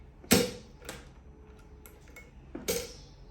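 Presser foot being swapped on a sewing machine for a Teflon foot: a sharp plastic-metal click, a few light ticks and taps, then a second snap as the foot seats, close and alone.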